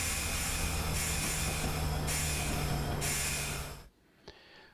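A train in the video game Train Simulator 2015 brakes to a stop. A loud, steady rumble with a hissing layer runs for about four seconds, then drops away suddenly, leaving a quiet tail with one short clunk.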